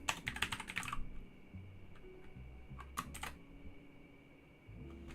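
Fast, close clicking of typing on a computer keyboard during a web development coding session, in a dense burst at the start and a second short burst about three seconds in, with no talking.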